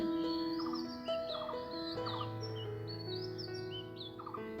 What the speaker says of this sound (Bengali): খেয়াল করেছেন কবুতরের সঙ্গে কাক এসেছে খাবার খাওয়ার জন্য